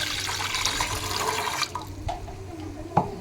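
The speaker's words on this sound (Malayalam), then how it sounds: "ഇനി നമുക്കിതിലോട്ട് ഒരു കപ്പ് വെള്ളം ഇതിലോട്ടൊന്ന് ഒഴിച്ചു കൊടുക്കാം" A cup of water is poured into a small pot on an unlit stove. The close, splashing pour lasts about a second and a half, then thins to a few scattered drips and soft trickles.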